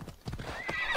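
A horse in Assassin's Creed Odyssey gives a loud whinny over rapid clip-clopping hooves. The burst is short, close and dense, and no one talks.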